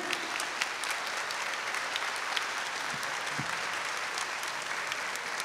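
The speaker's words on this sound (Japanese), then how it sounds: "レッド、ラディカル CC が良かったのに拍手。" An audience applauds for the street dance and freestyle football team Radikal C.C. at a top-16 battle, with steady, dense clapping holding at an even level throughout.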